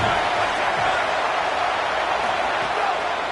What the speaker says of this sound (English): The Tide crowd rolling noise down on the Saban field on 3rd down.